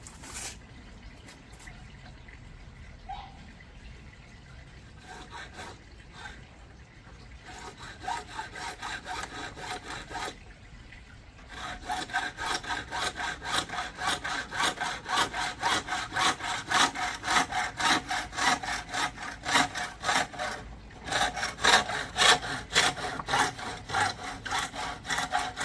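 A handsaw cutting wood by hand, starting with slow, quiet strokes and then settling into a faster, louder, steady back-and-forth rasp heard up close, with brief pauses between bursts.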